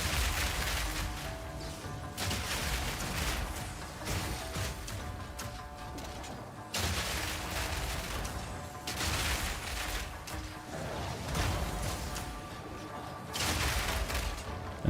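Spitter monsters in Path of Exile 2 firing a barrage, heard as dense repeated bursts of impacts and crackling blasts in waves, loud and continuous with short lulls between volleys.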